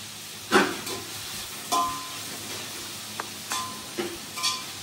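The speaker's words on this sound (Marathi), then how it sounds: "बघितलं तर कांदा अजून भाजून नाही झालेला, आता होईल भाजून." Onion frying in a pan for biryani, a steady low sizzle broken by several short scraping stir strokes at irregular intervals, close and moderately loud, with no voices.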